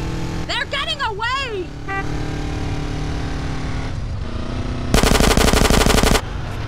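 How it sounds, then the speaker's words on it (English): Rapid automatic gunfire in GTA San Andreas during a drive on a quad bike mod, a dense burst of shots over a running engine, preceded by shouted game dialogue and vehicle noise. "Carl, you drive, I'll shoot!"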